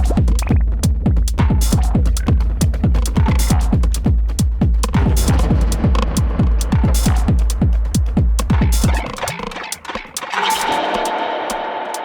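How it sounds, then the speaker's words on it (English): Punchy TR-909 drum machine one-shot samples fire one after another in a rapid, steady sequence of kicks and percussion, ending with a hissy cymbal-like sample. "I just so happen to have a bunch of 909 one-shots."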